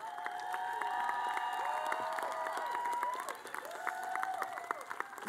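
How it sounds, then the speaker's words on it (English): An outdoor crowd at the One Billion Rising for Justice rally claps and cheers for community leaders, steady applause mixed with shouts and whoops, some voices rising above the clapping. "I want a big round of applause for our community leaders, our community activists"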